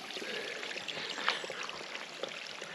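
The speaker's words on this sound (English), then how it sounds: "water comes out of the ground, you collect it, you filter it, and you drink it" Spring water flows out of the ground beside the Appalachian Trail, a faint, steady trickle and gurgle heard close up with no talk.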